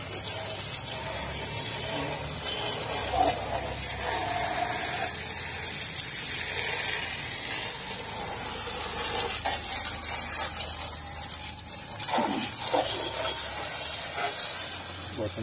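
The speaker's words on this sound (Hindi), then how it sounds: "ये बोतलों में पानी आता जा रहा है और ये प्रेशर से जो है बाइक धो रहे हैं भाई" A homemade portable bike washer pumps water into plastic bottles to build pressure. A steady, close rushing and hissing of water runs throughout, with a few clunks near the end.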